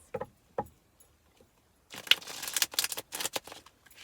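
A quick burst of papery riffling and flicking as tarot cards are shuffled close by, after a few soft taps, with no talking.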